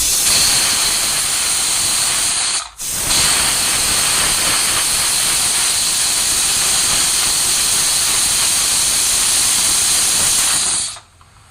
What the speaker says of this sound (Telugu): కుక్కర్ విజిల్ ఎక్కువ వస్తేనే ఎక్కువ ఉడుకుతుంది